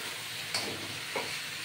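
Vegetable pasta ingredients frying in a pan after two tablespoons of vinegar are added, a close, steady sizzle with two brief louder hissing bursts from stirring.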